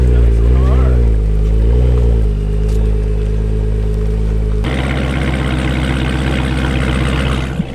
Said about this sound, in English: Eddie's getting the Hellcat warmed up